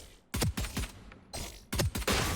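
Sharp gunshots fired at bots in the video game Valorant, in quick pairs and short bursts with brief gaps, loud and close, with no talk.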